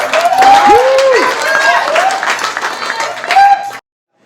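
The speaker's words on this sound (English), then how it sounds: "One more round of applause for Mark, everyone, please." An open mic audience applauds Mark with steady clapping, while people talk and sing-song voices rise over it. The applause cuts off abruptly to silence near the end.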